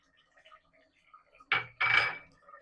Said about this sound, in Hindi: दही को मिक्स कर देंगे